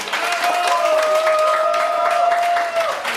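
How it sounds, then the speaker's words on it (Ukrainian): Wedding guests applaud the newlyweds during the first dance at a Ukrainian wedding, with steady, dense clapping that lasts throughout over a sustained held musical tone. "аплодисменти молодій парі"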